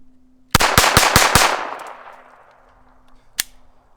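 A Taurus TX22 .22 LR pistol fires five rapid, evenly spaced shots in a quick reliability test, each a loud sharp crack with ringing decay, followed by a lone metallic clink.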